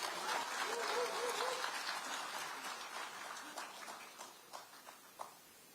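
Crowd at a Korean rally for putting the May 18 democratization spirit into the constitution applauds to welcome a speaker, a broad wash of clapping that gradually thins into scattered, sparser claps as it fades.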